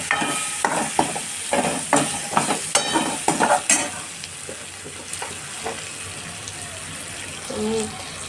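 Peanuts fry in a pan with turmeric and masala, the sizzle running under repeated sharp scrapes and stirs of a utensil against the pan, close and busy early on before easing into a softer crackle.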